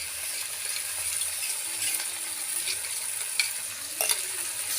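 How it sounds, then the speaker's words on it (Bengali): Aila fish frying in a pan with spices sprinkled over it, a steady close sizzle with a few light clinks of a utensil against the pan. "মাছটা আমার দু পিঠই ভালো করে সুন্দর করে ভাজা হয়ে গেছে।"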